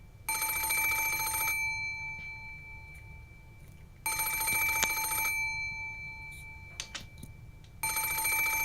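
An antique extension telephone on a study table rings in a Umineko game scene, giving three long bursts of bright metallic bell trilling separated by pauses of about two seconds, loud and alone.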